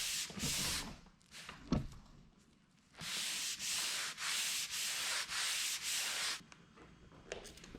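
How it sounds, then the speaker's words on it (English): Hand sanding a rosewood table top with 150 grit sandpaper: close, raspy strokes, first a few short passes, then a steady run of about six even back-and-forth rubs, then quieter scuffs. "Next, I hand sand the top with 150 grit sandpaper."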